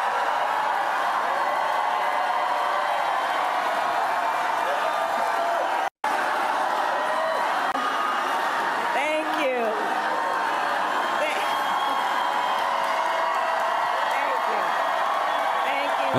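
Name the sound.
crowd applauding Kamala Harris at Milwaukee campaign speech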